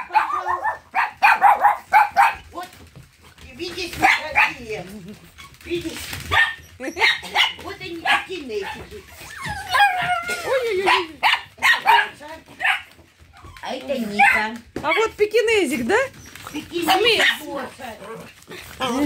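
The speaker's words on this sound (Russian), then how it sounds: "Смотрите, какие маленькие собаки." Small dogs bark, yip and whimper in bursts at an animal shelter, fairly close, while people talk and coo over them throughout.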